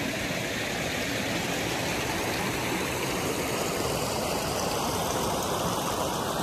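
A pondless waterfall in Lawrenceville, Georgia, flows at night as a constant broadband rush of falling water, steady and fairly close, with no voices.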